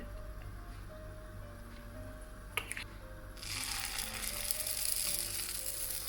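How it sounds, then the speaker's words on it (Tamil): Oil poured into the cavities of a hot kundu dosa pan on medium-low heat, a steady soft sizzle that jumps to a louder, brighter hissing fry partway through, heard close with a brief clatter of metal. "ஒவ்வொரு குழிக்குள்ளேயும் கொஞ்சம் கொஞ்சமாக எண்ணெய் விடுகிறேன்"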